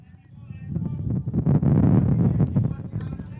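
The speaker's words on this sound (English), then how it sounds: "It's very windy here." Gusty wind at an outdoor sports game in Gibraltar buffets the microphone in heavy low rumbles, swelling in the middle and easing off, with a voice faintly audible underneath.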